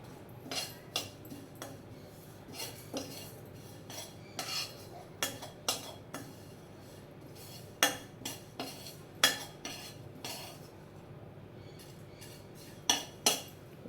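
A utensil scrapes and taps against a hot pan as ingredients for ragi laddus are stirred and roasted, a series of close, sharp clinks and scrapes in an uneven rhythm with quiet pauses between.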